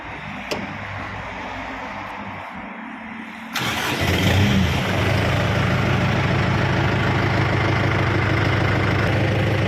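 A Kubota M7508 tractor engine cranks and fires midway, then settles into a loud, steady diesel idle that carries on without a break.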